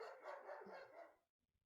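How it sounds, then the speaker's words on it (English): A German Shepherd barking in the background of a home setting, a faint, somewhat distant run of barks lasting about a second before cutting off, alone without talk. "That was my German Shepherd barking."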